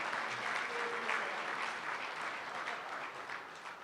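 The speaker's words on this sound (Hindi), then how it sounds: "लेकिन आप तालियां किस्तों में ना बजाएं" Sustained applause from a crowd at a Republic Day kavi sammelan and mushaira, steady and dense throughout with no voices over it.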